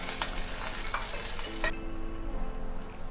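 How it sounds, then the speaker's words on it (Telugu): Green chillies frying in hot oil for Hyderabadi mirchi ka salan give a bright, steady sizzle with a few soft clinks, then the hiss drops away abruptly to a quiet background. "ఆయిల్లో మిర్చీలు వేయించుకోవాలి"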